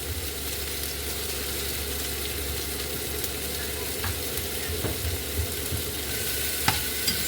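Venison pieces sear in a pan with a steady, continuous sizzle and crackle, with a few sharper pops near the end, for a stew meant for a puppy.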